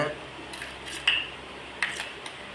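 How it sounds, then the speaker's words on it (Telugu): Metal spoon stirring cooking oil with ice cubes in a vessel, giving faint scrapes and a couple of sharp clinks against the side, close but quiet. "ఐస్ క్యూబ్స్ వేసి తిప్పుతుంటే ఎలా అవుతుందో నూనె చూడండి"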